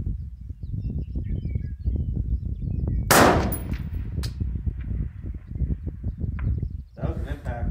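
A .223 rifle fired at a target 765 yards away, with one loud, sharp shot cracking close by partway through, then a faint distant sound of the impact, while people talk throughout over faint outdoor birdsong.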